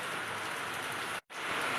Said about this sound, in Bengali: দেখো বন্ধুরা, কেমন ঝমঝমে বৃষ্টি হচ্ছে।